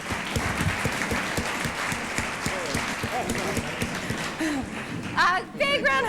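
Audience applause for Todd, the winner of a grasshopper counting game at a girls' night out, fills the whole stretch as dense, steady clapping with cheers and whoops rising near the end.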